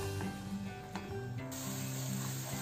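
A paste of ginger, green chilli and garlic sizzles in hot ghee with a steady, dense hiss. It continues without a break for a few seconds, with faint stirring and clatter underneath.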